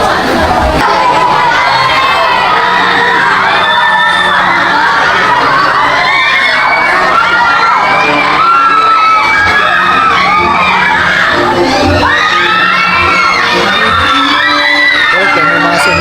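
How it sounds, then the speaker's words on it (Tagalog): A crowd of children shouts and cheers at an amusement park, with dense overlapping yells and whoops rising and falling steadily throughout, loud and close, with chatter mixed in. "Okay, may mga sumisigaw eh."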